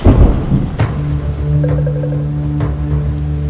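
Heavy pelting rain falls in the Munnar hills near Eravikulam National Park, a loud, steady hiss of downpour with low rumbling and a few sharper drop impacts throughout.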